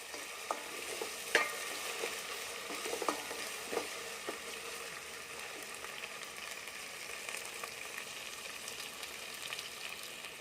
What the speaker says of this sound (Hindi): लहसुन अदरक का पेस्ट अच्छी तरह भून चुका है।